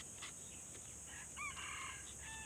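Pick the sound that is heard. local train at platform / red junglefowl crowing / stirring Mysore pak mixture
red junglefowl crowing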